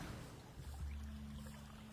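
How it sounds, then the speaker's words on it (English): Steady wash of water ambience, like gentle surf or a boat on water, plays continuously beneath sustained low handpan tones tuned to a D2 water scale, with no talking. "I use a water background sound"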